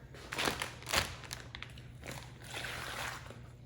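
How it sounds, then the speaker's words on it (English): Water is poured into a crockpot freezer meal of seasonings, garlic and Marsala wine, giving soft close splashes and sloshing trickles in a couple of brief bursts, then a lighter steady dribble, with no talk. "gonna add some water."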